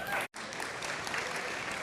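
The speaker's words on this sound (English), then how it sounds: "Give them a round of applause, please." Audience applause at a university esports panel at ESI London, a dense wash of clapping that cuts out briefly at the start, then continues steadily.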